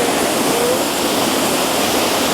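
Roaring waterfall in Cali, Colombia, a loud, dense, steady rush of falling water filling the whole clip close up, with no voices.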